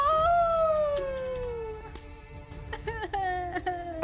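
A long, wavering werewolf howl from the video game Golf With Friends slides downward, followed by short yelps and clicks, with faint background noise.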